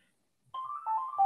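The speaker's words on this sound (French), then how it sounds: "Je suis désolé pour le téléphone qui sonne." A phone ringtone starts after a short silence, a steady electronic tone stepping between pitches, moderately loud and alone.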